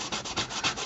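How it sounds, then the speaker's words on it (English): Sanding block rubbed over plastic Nerf Stryfe blaster parts, a close, steady scraping in several quick back-and-forth strokes with no voices. "This is kind of why I like the sanding block"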